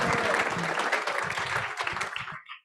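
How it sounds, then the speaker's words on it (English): Enthusiastic applause with some cheering from a school meeting audience, dense clapping that holds steady and then quickly dies away into near silence at the end. "we're going to yell loud because we're cheering for the Reese Puffer Rockets"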